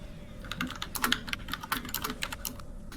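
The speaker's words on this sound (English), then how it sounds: "beating away on his keyboard as he always does because he's panicking" Rapid, uneven clatter of keys on a computer keyboard during a Star Trek Online gaming session, a dense stream of sharp clicks at close range with no voices over it.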